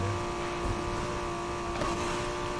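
A car engine in the racing game NFS Heat holding a steady drone as nitrous boost fires across a bridge, a continuous mid-level hum with little change in pitch, no voices over it.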